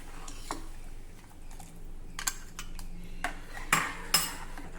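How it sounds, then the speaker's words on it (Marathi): Soaked bajra flour is being stirred into boiling water in a cooking pot, producing close, scattered metallic clinks and scrapes of a spoon against the pot, with quiet gaps between them and no talking. "आता हे मिश्रण आपल्याला सतत ढवळत राहायचं आहे, म्हणजे गाठी होणार नाही"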